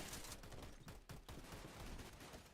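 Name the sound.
gunfire in an FPS video game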